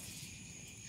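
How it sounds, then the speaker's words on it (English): A cricket chirps steadily at night during an outdoor insect search, a soft continuous trill that stays faint and unbroken, with no voices. "I hear a cricket."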